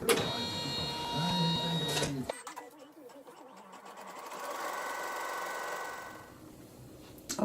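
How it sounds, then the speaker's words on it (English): An embroidery machine runs a placement stitch while working a Dresden quilt block, a steady mechanical whirring with a rapid needle rhythm throughout, briefly dropping to a softer, busier hum after the first two seconds. "I'm going to start the machine so we can sew a placement stitch"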